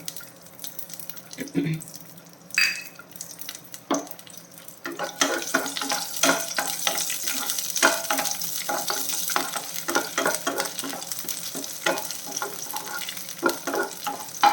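Crushed cashew nuts and raisins sizzle and fry in hot ghee in a home kitchen, quiet scattered crackles at first building into a steady close sizzle with stirring.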